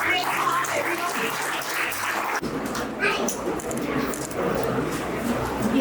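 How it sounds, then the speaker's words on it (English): Audience applause at an event at Lanco Hills, dense continuous clapping with crowd noise and voices mixed in, holding steady throughout and shifting slightly in tone partway. "please have a round of applause for the great heart, everyone"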